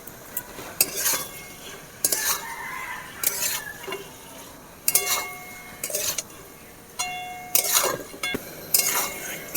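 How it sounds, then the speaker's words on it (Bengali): Cauliflower, potatoes and peas being stirred with spices in a pan: loud, close scraping strokes of a spoon against metal come in bursts every second or so, with faint tonal sounds in the background. "পাঁচ মিনিট এভাবে আমি নেড়ে নেব মশলার সাথে, যাতে মশলাটা কপি আলুতে ভেতরে ঢুকতে পারে"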